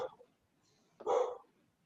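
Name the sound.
dog named Freya barking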